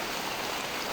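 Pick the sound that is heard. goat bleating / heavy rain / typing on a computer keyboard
heavy rain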